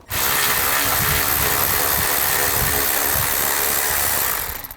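A ratchet with a 10mm socket backs a bolt out under a 2011-2014 Chrysler 200 during a drive belt replacement, a steady close mechanical whirr running about four seconds without pause.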